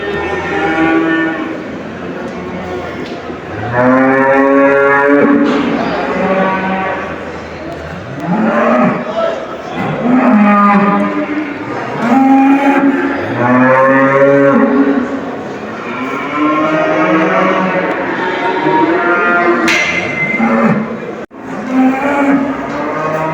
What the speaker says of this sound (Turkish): Arkadaşlar burada da inekler var.